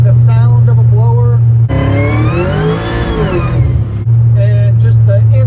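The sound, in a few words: supercharged LT4 engine with blower revving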